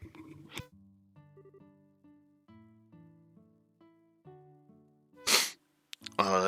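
Soft electronic game music from Trails in the Sky the 3rd plays in simple tones, then a sudden sharp sneeze from a game character bursts out near the end, followed by another short noisy outburst.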